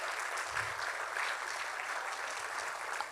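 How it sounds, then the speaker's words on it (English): An audience at a live-streamed Bharatanatyam arangetram dance recital applauds with a faint, distant, steady patter of clapping that carries on evenly. "Let's hear it, a big round of applause for them"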